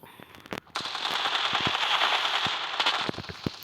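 Rapid automatic gunfire rattles in a first-person shooter video game, a dense sustained burst of shots after a few isolated reports, loud and close with no talking over it.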